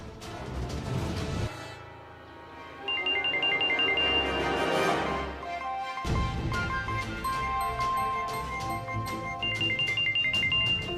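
A phone ringtone plays a repeating electronic melody over background music, loud and close, continuing for several seconds.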